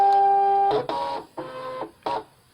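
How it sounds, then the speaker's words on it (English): Brother ScanNCut cutting machine scanning a photograph, giving several close, loud mechanical whirs with steady motor tones, broken by short clunks and pauses as the scanner moves in stages. "Now I'm going to scan."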